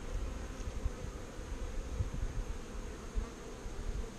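Honeybees in a hive being checked for queens and brood, a steady low insect hum with rustling throughout, near and continuous with no voices.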